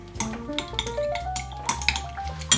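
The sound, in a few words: stirring fragrance into candle wax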